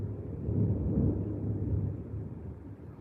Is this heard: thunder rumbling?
yes